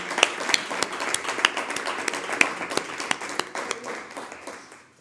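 Audience applause at a political council meeting, a burst of many people clapping that starts strong with some sharp individual claps, then gradually thins and fades out.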